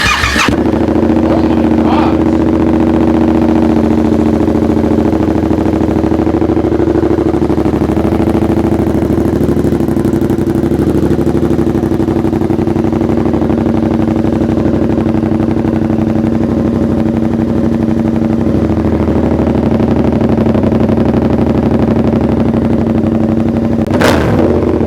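A Yamaha R7 motorcycle fitted with straight pipes fires up and settles into a loud, steady, throaty idle that holds close and constant for the whole stretch, with a brief rise near the end.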